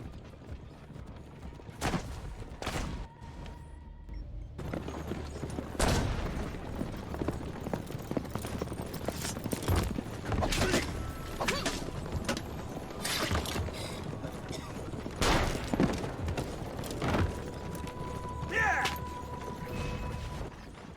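Horse hooves clip-clop in the Assassin's Creed Brotherhood video game, a steady trotting rhythm mixed with creaking, mechanical game effects throughout.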